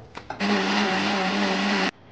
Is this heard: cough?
no